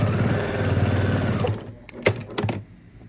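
A sewing machine runs a steady stitching whir through necktie fabric for an apron for about a second and a half, then stops, followed by a few sharp clicks and handling knocks, close with no talk.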